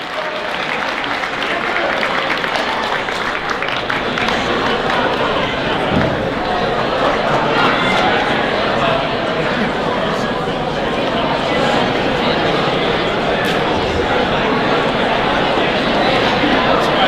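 A school assembly audience at Winslow High School applauds and cheers for freshman teachers, a dense, steady wash of clapping and crowd noise sustained loudly throughout.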